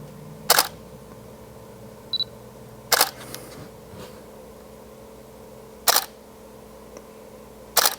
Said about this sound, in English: This is a DSLR, so we have the prism, so we have the mirror inside, and it's a very distinctive sound